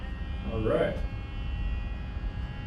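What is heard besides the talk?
Trio Vino wine preserver vacuum pump running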